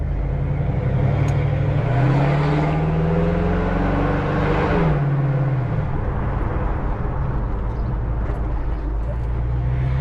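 A 1967 Mustang Shelby pulls away on a ride, its deep, loud engine rumble rising and falling in pitch as it revs and shifts, heard close from inside the car.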